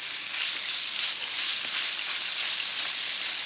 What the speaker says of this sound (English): I'm going to add my chicken. Hear that sizzle?